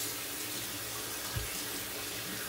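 Tap water runs steadily into a sink to rinse a shaving brush, a continuous close hiss and splash with a brief dull knock partway through.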